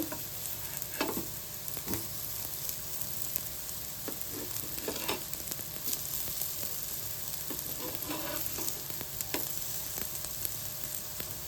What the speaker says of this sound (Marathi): मस्त आपल्याला हे मीडियम गॅसवरती आपल्याला शेकून घ्यायच्यात